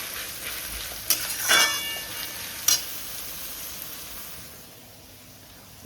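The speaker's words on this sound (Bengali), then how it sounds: "তেল গরম হওয়ার পর গরম মশলা দেওয়ার পরে আমি পেঁয়াজ দিয়ে দিলাম। এবার পেঁয়াজগুলোকে যতক্ষণ না পর্যন্ত বেরেস্তা টাইপের হয় ততক্ষণ পর্যন্ত এটাকে ভাজবো।" Onions sizzle in hot oil with garam masala in a pan for a mutton dish: a steady close frying hiss broken by a few brief stirring scrapes and clinks, with no talking.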